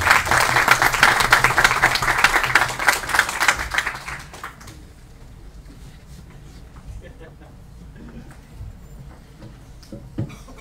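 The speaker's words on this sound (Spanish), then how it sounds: "Un aplauso para Francis, por favor." An audience applauds a speaker at a talk, a burst of clapping that fades out after about four seconds into a quiet room with faint rustling.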